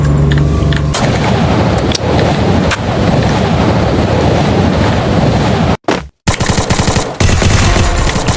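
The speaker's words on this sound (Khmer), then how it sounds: "តើបរុនបាញ់ប្រាំងឬក៏ប្រាំងបាញ់បរុន" Gunfire in the shooting game Free Fire rattles in a dense, loud, continuous stream of rapid shots that drops out briefly for a moment and then resumes just as heavily.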